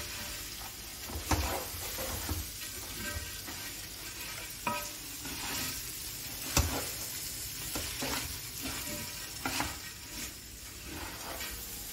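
Garlic and ginger paste with salt sizzles in a pan, a constant soft crackle of frying broken by several scraping stirs of a spoon at irregular intervals.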